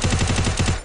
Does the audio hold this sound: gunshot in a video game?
yes